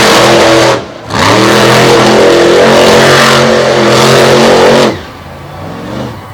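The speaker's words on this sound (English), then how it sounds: "Smoking the tires between the walls" A monster truck at a Jennerstown 2020 show revs its engine hard while spinning its tires in a donut, a loud, close, sustained roar with one brief dip, then cutting back to a lower rumble near the end.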